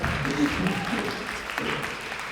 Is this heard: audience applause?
yes